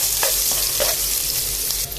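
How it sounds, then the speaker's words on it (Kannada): Green chillies and onions fry in hot oil in a pan, a steady close crackling sizzle with faint stirring scrapes and no talking. "ಎಣ್ಣೆ ಕಾದ ನಂತರ ಹಸಿಮೆಣಸಿನ್ಕಾಯಿ ಈರುಳ್ಳಿನ ಫ್ರೈ ಮಾಡ್ತೀನಿ"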